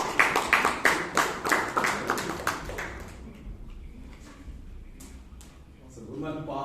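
Audience applause at a Toastmasters meeting in Bangalore: a burst of clapping from a room of people, loud at first and tapering off after a few seconds into quieter room noise, with a cheer and voices near the end.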